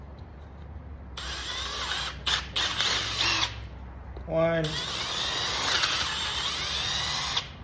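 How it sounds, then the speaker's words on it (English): Power drill boring holes in a wooden under-mount drawer slide jig, several close, loud whirring bursts of a few seconds each with brief pauses, a short voice in between. "depending on the size of your drill bit. So I'll go ahead and finish up my holes."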